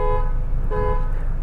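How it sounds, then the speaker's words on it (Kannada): A Mahindra Thar Roxx horn sounds two loud, close honks, the first short and the second slightly longer, each a bright buzzing tone heard from near the vehicle over a steady low rumble. "ಹಾರನ್ ಚೆನ್ನಾಗಿದೆ, ಲೌಡ್ ಆಗಿದೆ."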